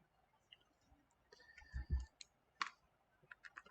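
Numbers are keyed into a calculator in a quiet room, a scattered series of faint plastic clicks and taps, with a soft low thump in the middle.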